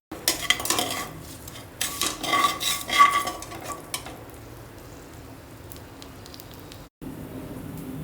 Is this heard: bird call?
no